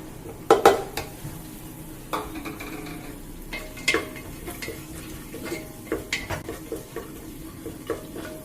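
Chopped vegetables and softened tomatoes stirred in a pan for a Kerala coconut milk pulav, with a spatula scraping and tapping irregularly against the metal over a faint, steady sizzle, close and alone.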